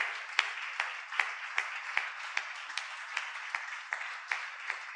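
Sparse, distinct hand claps at a steady rhythm, roughly three per second, over a soft bed of scattered clapping from a small church congregation.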